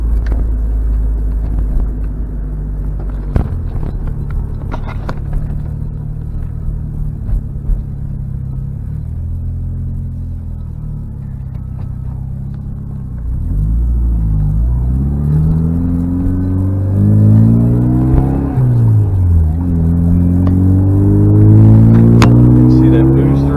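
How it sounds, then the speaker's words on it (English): A 1999 Mitsubishi Eclipse GS-T Spyder drives with a loud, low engine drone from inside the car that climbs through rising gear pulls in the second half, with brief breaks between pulls where a blow-off valve may sound. "See that boost or not? It's got a good sounding blow-off valve on it."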